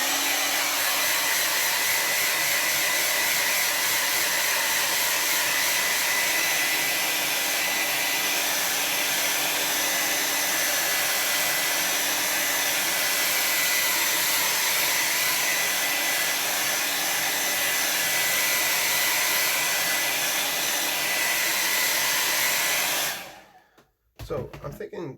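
Hair dryer blowing over a watercolor painting, a loud continuous whooshing roar held steadily up close for over twenty seconds before switching off abruptly near the end.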